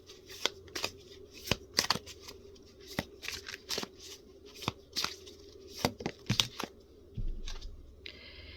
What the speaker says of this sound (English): So here, we're now going to draw in some clarifier cards.